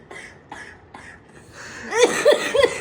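A few soft, rhythmic coughs come first, then a woman gives a louder burst of harsh, voiced coughing up close.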